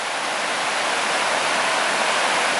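A small waterfall along a river gorge gives a steady, loud rush of falling water, broadband and unbroken throughout, with no voices.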